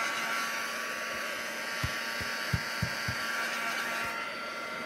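Constant close whoosh of a craft heat tool drying ink on a Christmas tag, with a handful of light taps and knocks under the steady airflow.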